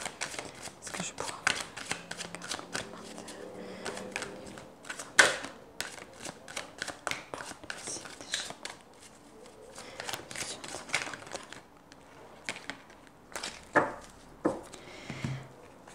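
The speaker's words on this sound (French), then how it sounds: "Je vais quand même tirer une carte complémentaire" Tarot cards are shuffled and handled to draw an extra card, producing quick crisp riffling and flicking clicks in irregular bursts close to the microphone, with a voice talking quietly at times.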